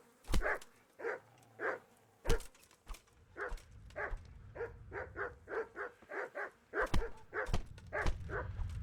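Dogs in the video game Kingdom Come: Deliverance give a run of short barks and yips, close and fairly loud, irregular at first and then quicker, with thumping impacts between them.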